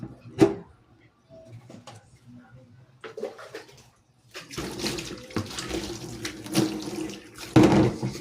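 Tap water runs steadily while fish are rinsed at a sink, starting after a few quiet seconds with scattered handling knocks, then a continuous moderately loud splashing stream with a louder burst near the end.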